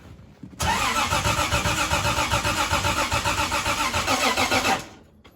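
A 1973 Triumph TR6 with multiple carburetors cranks without catching, its starter churning in a fast, even rhythm for about four seconds, loud and close, before cutting off.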